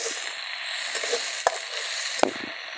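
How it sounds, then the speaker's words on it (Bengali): Red lentils frying with onions in a pan give a steady, close sizzle, broken by two sharp clicks of a spoon or spatula against the pan. "পেঁয়াজের সাথে এটা ভালো করে ডালটা ভেজে নেব।"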